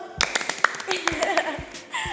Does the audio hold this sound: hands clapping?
yes